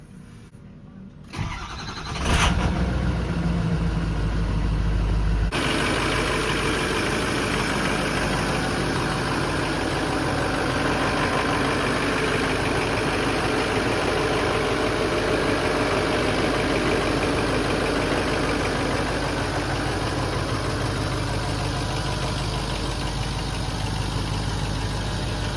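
A Ford 6.0 Powerstroke diesel with a 5 inch exhaust cranks over briefly and starts, then settles into a steady, deep idle that runs on loud and unbroken for the rest of the time.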